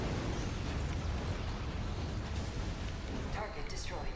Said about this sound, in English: Get him with those shoulder cannons.